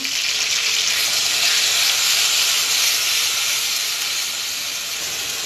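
Whole cumin, onion and spice paste hit hot oil with a loud, dense, steady sizzle and hiss that eases slightly toward the end, with no voices.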